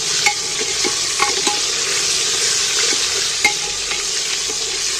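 Whole onions fry in a pan with a steady, loud sizzle while a utensil stirs them, adding a few light scraping knocks; no voices.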